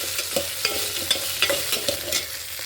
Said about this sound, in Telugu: బెండకాయలు ఆయిల్ ఫ్రై చేసేసుకున్నాం కదా